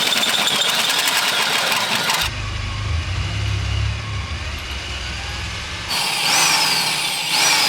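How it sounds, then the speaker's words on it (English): An electric drill with a hole saw bores down through a part of a Lexus LS430, a steady whirring drone with a low grinding churn in the middle stretch, loud and close, starting and stopping abruptly. "take a hole saw and drill from the top down"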